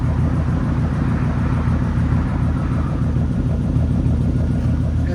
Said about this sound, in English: So the idle, it's pretty clean, quiet.